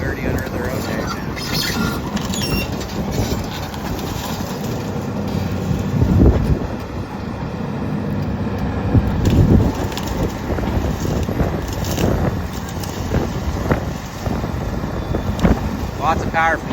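An XCMG 210 excavator with a Cummins diesel pulls trees, its engine rumbling steadily under wind noise, with cracking, crunching surges as wood and roots give way; a voice talks briefly.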